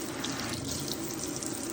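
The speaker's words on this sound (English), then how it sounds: "turn the water off" Water runs from a tap in a steady, even hiss, close and unbroken, with no voices over it.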